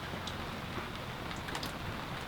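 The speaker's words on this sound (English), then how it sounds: "It's still raining." Steady rain falls on a sailboat moored in a gale, making a soft, even hiss with a few scattered drop taps and no voices.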